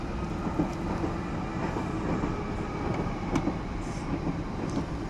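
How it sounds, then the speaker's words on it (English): A train passing a station in Queensbury, London rumbles past in a steady, continuous roar with faint metallic clicks, moderately loud and unbroken throughout. "The train coming."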